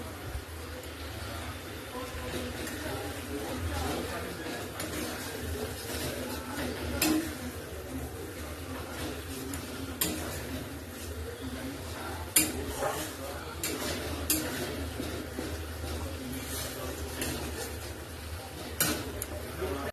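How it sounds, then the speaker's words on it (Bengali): Spice masala with chilli powder being stir-fried in a pan, with a steady low sizzle under repeated scraping and sharp metal clinks of a spoon against the pan. "এখন মশলাটা একটু কষাবো।"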